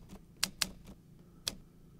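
Typewriter key strikes reproduced by the Hanx Writer iPad typewriter emulator app, modeled on real physical typewriters: a handful of sharp, separate clacks at an uneven typing pace, fairly faint, with no voices.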